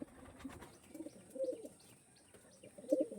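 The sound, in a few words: pigeons cooing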